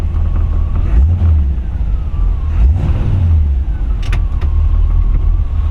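A 1940 Ford Deluxe Woody Wagon retro-rod idles low and slow at around 600–700 RPM, with a steady deep rumble close by and a faint tonal whine drifting over it.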